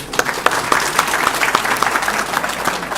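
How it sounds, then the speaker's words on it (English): Audience applause after a lecture, honoring two speakers: a fairly close, steady patter of many hands with a few sharper individual claps standing out. "Let's give a round of applause to our 2 speakers again"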